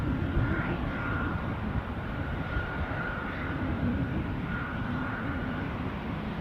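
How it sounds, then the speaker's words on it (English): A Eurowings passenger jet departing Dusseldorf airport, heard as a distant, steady broadband engine roar with a faint whine that holds throughout. "So that Eurowings departure was off to Venice"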